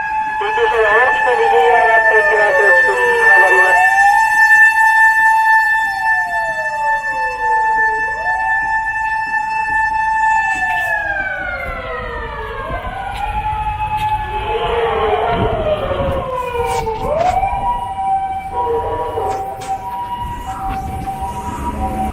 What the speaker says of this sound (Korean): 구급차가 지나간다는데요?